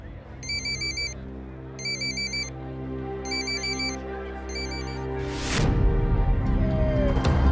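A mobile phone rings in a repeating electronic ringtone, four clear bursts at regular intervals over background music in a household scene, followed by a louder rising swell.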